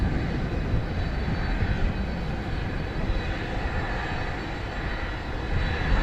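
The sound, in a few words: Fiji Airways jet taking off at DFW Airport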